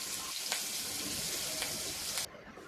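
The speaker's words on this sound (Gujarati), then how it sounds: "1 ઝીણું સમારેલું લીલું મરચું લઈ લેશું અને તેને મિક્સ કરી સાતળી લેશું" Ginger garlic paste and finely chopped green chili sizzle steadily in a hot pan, a continuous close frying hiss with a few soft stirring scrapes, the sound dropping away abruptly near the end.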